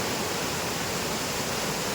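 Floodwater after a night of heavy rain in the Konkan rushes and roars steadily, a loud, continuous broadband wash with no voices.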